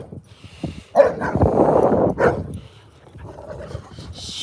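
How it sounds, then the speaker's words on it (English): A dog barking indoors, a few close, loud barks and yips around the middle with some whimpering and panting between, no speech over it. "stop barking, bud?"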